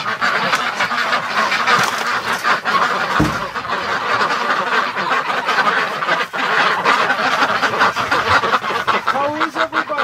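A crowd of ducks in a barn quacks and honks continuously in a noisy, overlapping chorus, close by and loud throughout.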